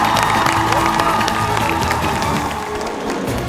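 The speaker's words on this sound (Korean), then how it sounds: "박수 한 번 해주세요." A Korean KBS television studio audience at a dance sport challenge show breaks into loud, sustained applause mixed with cheering and scattered shouts, tapering off slightly toward the end.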